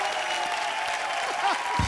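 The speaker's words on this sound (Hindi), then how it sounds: "शिल्पा और राजबाजी के लिए जोरदार तालियां" A TV comedy show's studio audience claps in a short burst of steady applause, moderately loud with a faint crowd murmur.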